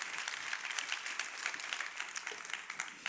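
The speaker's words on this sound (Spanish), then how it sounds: "denle el más fuerte aplauso al Rey de Reyes y Señor de Señores" A church congregation applauds for a pastor's service, a dense, continuous patter of many hands that stays fairly faint and steady throughout, with no talking over it.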